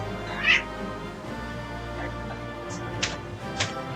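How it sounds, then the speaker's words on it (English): A cat gives one short meow near the start, then makes a few faint sounds over a steady low room hum, and there are light clicks later on. "Here, Cat, you wanna go outside?"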